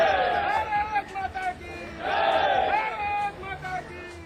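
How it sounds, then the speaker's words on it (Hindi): A crowd of BJP party workers at Lucknow's Amausi airport chanting zindabad slogans, rising and falling in loud rhythmic bursts of many voices shouting together. "लखनऊ का अमौसी एयरपोर्ट पर बीजेपी की कार्यकर्ताओं की भीड़, जिंदाबाद के नारे"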